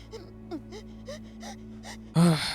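A young girl breathes in a series of soft, shaky whimpers and small gasps, followed by a sudden louder burst of sound at the end.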